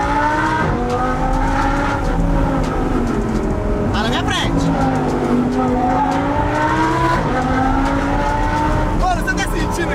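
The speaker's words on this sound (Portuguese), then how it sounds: "Mano, olha o som desse carro, velho." An Audi R8 sports car's engine revs and rises in pitch through several loud, continuous sweeps, with a brief squeal of tires near the end, while people talk excitedly over it.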